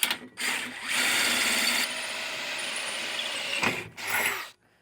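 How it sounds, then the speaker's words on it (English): Power drill boring holes to mount a tractor canopy, a buzzing whir that runs for a few seconds in bursts, with brief stops and restarts, fairly close. "probably need to drill the hole first, Hank"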